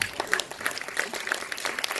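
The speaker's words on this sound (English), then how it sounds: "Another round of applause" Audience applause in a conference hall after a marketing talk on storytelling, a diffuse patter of many hands clapping at moderate level, steady for two seconds with no voices on top.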